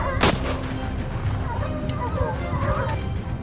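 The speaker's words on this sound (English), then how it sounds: "The sound of gunfire echoed relentlessly" A single loud, sharp gunshot during a wild boar hunt bursts out near the start, then gives way to steady background noise and faint voices.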